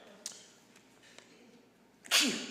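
A single sharp sneeze bursts out near the end after a few quiet seconds of faint room noise at a town council meeting.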